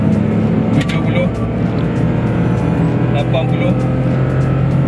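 A Perodua Axia 2020 hatchback accelerates at full throttle, its engine drone steady and loud inside the cabin while someone talks over it throughout.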